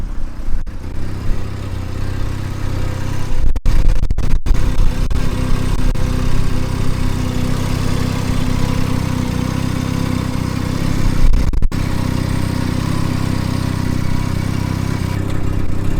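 The 13B rotary engine of a 1993 Mazda RX-7 FD runs at a steady idle close by. Its even, buzzing drone continues without break, with a couple of faint clicks partway through.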